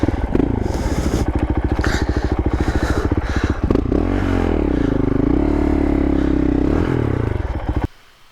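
Dirt motorcycle revving hard with the rear wheel spinning and scrabbling on a steep, rocky Colorado trail, a loud close engine pulsing and rising in pitch, with clattering rock scrapes, then cutting out abruptly at the end.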